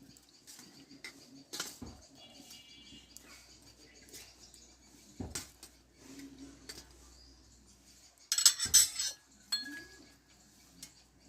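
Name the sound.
plate placed as a cover over the sweets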